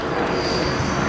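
Aircraft engine roar from a helicopter passing overhead near a rural railway line bridge, heard as a loud, steady broadband rush with no pause.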